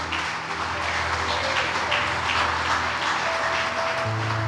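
A church congregation at a morning service claps continuously, a dense, even wash of applause at moderate loudness over a low sustained musical drone, with no break across the few seconds.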